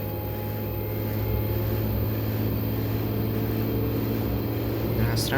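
An LG washing machine drum spins up toward 1200 rpm in service test mode, giving a steady, close mechanical whir and hum with a faint rising whine near the end.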